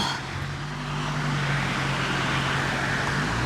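Cars passing on a road near a Michigan trail, a broad rushing roadway noise that swells and holds steady as vehicles go by, moderately loud with a low engine rumble underneath and no voices.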